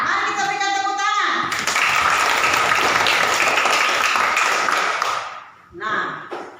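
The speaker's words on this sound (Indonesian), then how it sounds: "Mari kita berikan tepuk tangan." A class of students applauds together in a classroom, a dense burst of clapping lasting several seconds before it fades, with a teacher's voice heard before and after.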